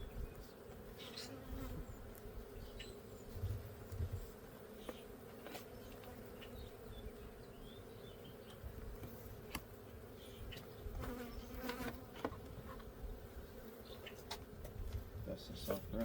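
Honey bees drone steadily around a backyard hive during an early-spring inspection, a continuous close buzz with occasional louder passes and faint handling noises.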